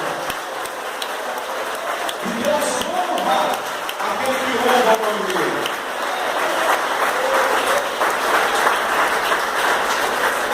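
A church congregation claps for the Lord during a Portuguese sermon, a steady, loud wash of applause lasting throughout while a preacher keeps speaking over it.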